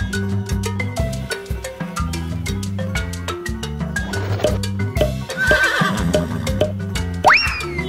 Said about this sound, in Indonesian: Ini adalah kuda